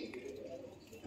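Pigeons kept for sale in Vellore coo softly in a low, continuous murmur, a steady rolling hum from several birds close by.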